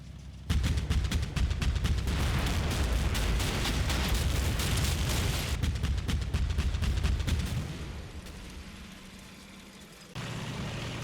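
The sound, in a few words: flak cannon firing in the video game Combat Mission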